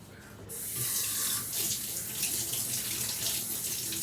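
Tap water gushes steadily into a kitchen sink while food is rinsed under it, a close, continuous hiss that starts abruptly and runs alone for a few seconds.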